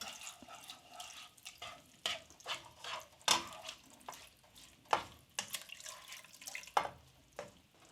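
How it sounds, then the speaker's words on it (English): Beef stock splashes and trickles into frying beef mince for a bolognese, with scattered wet drips, stirring clinks and soft sizzling, quiet and close. "We're going to add the stock."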